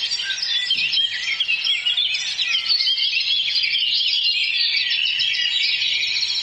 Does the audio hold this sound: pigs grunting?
no